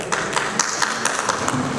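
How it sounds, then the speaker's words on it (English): An indoor audience applauds a panel of speakers at an urban design discussion, a steady patter of many hands clapping at moderate loudness with no voices over it. "Ladies and gentlemen, a huge round of applause for this."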